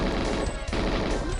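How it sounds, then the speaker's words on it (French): Rapid automatic gunfire from the N64 game GoldenEye, Dam mission, crackles in a dense, loud burst of repeated shots lasting over a second. "Il me tire dans le dos ce mec."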